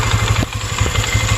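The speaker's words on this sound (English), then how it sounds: "It's a single cylinder engine." Single-cylinder engine running close and loud with a rough, uneven low thumping, stumbling briefly as it bogs down before picking back up.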